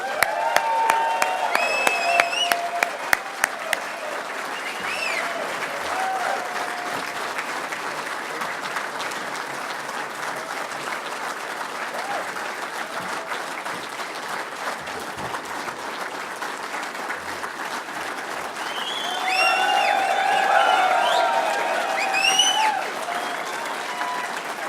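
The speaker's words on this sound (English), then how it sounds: "Ladies and gentlemen, a round of applause, please, for our premier," A large outdoor rally crowd against the carbon tax in Regina applauding for Saskatchewan premier Scott Moe, sustained clapping that swells near the end, with some distant cheering and talk underneath.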